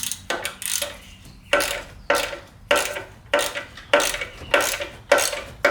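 A hand ratchet works loose exhaust hanger bolts on a car, rapid clicking strokes repeating about ten times in a steady rhythm, close and sharp, with no talking.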